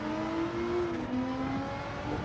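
A Nissan GT-R race car in Gran Turismo 7, racing at the Tokyo circuit, drones with a steady, loud engine note that rises and shifts pitch as it gets on the power, heard alone and up close.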